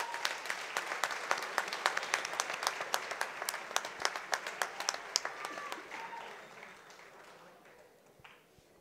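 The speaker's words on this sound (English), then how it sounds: "Please give them all a round of applause." An audience at a school awards presentation applauds, a dense run of claps that peaks early and then fades over several seconds, with no voice over it.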